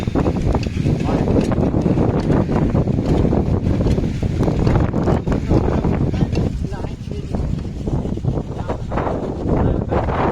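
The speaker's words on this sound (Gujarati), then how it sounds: "આ પવન જ એટલો છે આમાં" Strong wind on a hill buffets the microphone in a constant, loud, low roar that never lets up.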